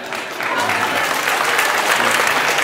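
Audience applause fills the room, a dense steady wash of clapping from a crowd that holds at full loudness for a few seconds with no break.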